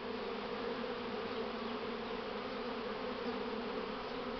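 A dense swarm of honeybees at the hive entrance on an overcast day hums in a steady, continuous drone that fills the whole clip, close and even, with no voices.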